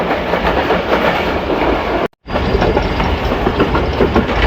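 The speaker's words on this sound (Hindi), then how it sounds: "खूबसूरत आवाज़ के साथ पाकिस्तान एक्सप्रेस" The Pakistan Express passenger train runs on rails with a loud, close, continuous rumble and rattle of carriages, broken by a brief dropout midway.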